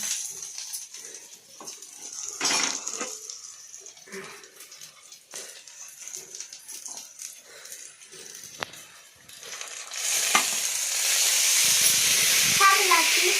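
Onion greens hit a hot pan and burst into a rising, steady sizzle and hiss, loud and close, after a stretch of quieter kitchen clatter and a voice talking.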